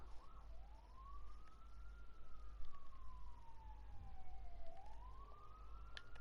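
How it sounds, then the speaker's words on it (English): A police siren wailing in long slow rising and falling sweeps, somewhat distant outside on a nearby road, over a low rumble of background noise. "There's literally sirens down my road right now."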